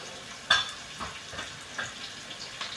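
Chopped onion and green chili fry over a high gas flame, a soft steady sizzle broken by several distinct scraping stirs spaced about half a second apart, close and alone without talk.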